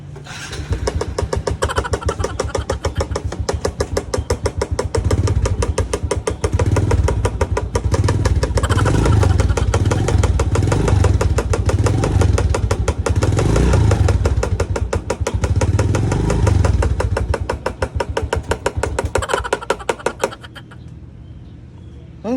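A motorcycle engine runs loud and close with a steady, rapidly pulsing beat that holds for about twenty seconds before it suddenly drops off.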